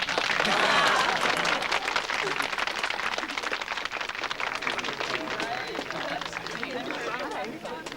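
Dense applause from a large crowd, steady and loud throughout, with a wash of crowd noise and babble underneath.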